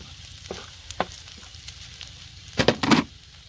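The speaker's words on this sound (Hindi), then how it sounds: "और प्याज और सब्ज मिर्च को भी थोड़ी देर के लिए भिंडी के साथ फ्राई कर लेंगे।" Okra, onion and green chilies frying in a pan for besan bhindi sabji, with a quiet steady sizzle broken by a few stirring scrapes and a louder burst of clatter near the end.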